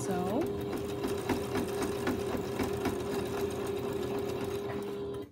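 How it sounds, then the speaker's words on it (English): A sewing machine runs steadily for several seconds, close and loud, as a few back-tack stitches go into the binding of a fabric potholder, with a faint voice underneath. "So I'm going to back tack a couple stitches"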